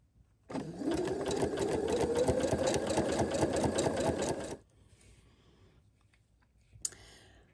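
A sewing machine runs a straight stitch along the right edge of a zigzag at a short stitch length, a steady fast mechanical chatter for about four seconds, then stops, leaving faint quiet handling and a small click.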